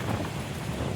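Strong wind sweeps steadily through a vegetable garden during a tomato harvest, a loud, continuous broadband rush with gusty buffeting on the microphone and no talk.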